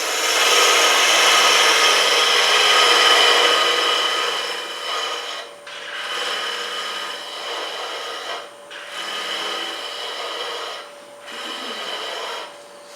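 Wood turns on a lathe while a cutting tool takes material away in long, loud, steady scraping passes, broken by a few short pauses between cuts.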